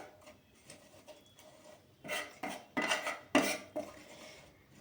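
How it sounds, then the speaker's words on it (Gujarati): A spoon stirs dabeli masala with chili powder in a pan. Faint clinks come first, then a run of louder metallic scrapes and knocks against the pan near the end. "એને આપણે હલાવી લેવાનું"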